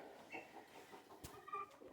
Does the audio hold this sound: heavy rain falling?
no